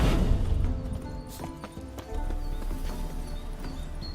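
Hooves of a horse in The Witcher 3 clip-clop steadily at close range, with a neigh breaking through over game ambience and no talk.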